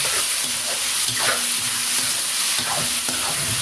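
Squash and patola sautéed in a pan with a loud, continuous sizzle and repeated scraping strokes of a spatula, close up.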